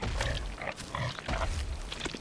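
Pig enemies in the video game Bloodborne grunt and snort in a rough, low burst of overlapping noises, moderately close amid game ambience, with no talking.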